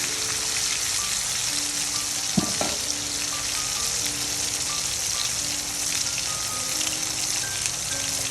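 Rohu fish pieces fry in hot oil with a steady, dense sizzle throughout, joined by a brief clatter as the pieces are turned partway through.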